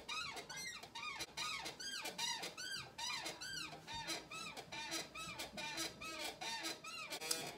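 A chair squeaks over and over in a steady, rapid rhythm, loud, close and high-pitched, continuing for several seconds with no talking.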